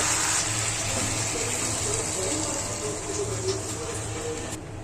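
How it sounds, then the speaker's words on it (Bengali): Water pours steadily into a pan of fish and bottle gourd curry, a continuous gushing wash that runs evenly, close and fairly loud, and tapers off at the very end. "দেখেন আমি কিন্তু অনেকটা পরিমাণে জল দিয়েছি"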